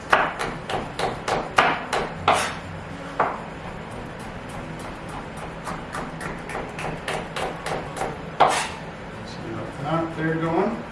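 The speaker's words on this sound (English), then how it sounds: "We're just going to give it a quick chop." A knife chops quickly through chili on a cutting board for beef tacos, a run of sharp, evenly spaced close taps that speeds up in bursts, with a couple of heavier thuds and some soft handling noise near the end.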